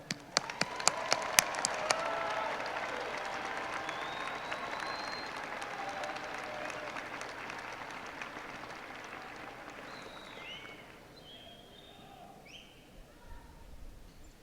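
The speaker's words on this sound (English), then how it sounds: "Let us salute them with our applause" A crowd at a college commencement ceremony applauds loudly at first, the clapping gradually thinning and fading out, with faint birdsong toward the end.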